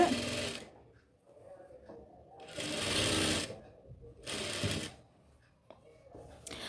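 A sewing machine stitching a lining chudithar top, running in three loud bursts separated by quiet pauses, close up.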